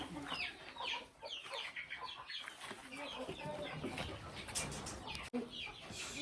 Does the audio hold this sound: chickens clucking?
yes